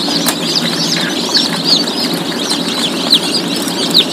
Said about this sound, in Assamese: বহুত পোৱালি ওলাইছে আমাৰ।